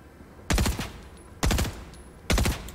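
Three loud, short bursts of rapid video game gunfire, each about a third of a second long, evenly spaced with brief quiet gaps between them.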